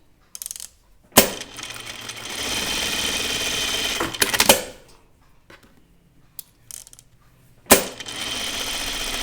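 A domestic sewing machine top stitching fabric for a caftan dress runs in a few sustained bursts of close, steady motor whirring, separated by short pauses and small clicks as the work is repositioned.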